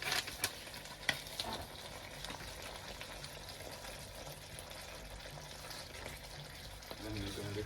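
Chicken hearts in a pan with onion soup mix give a steady, quiet sizzle, with occasional scraping clicks as they are stirred, and a brief voice in the background.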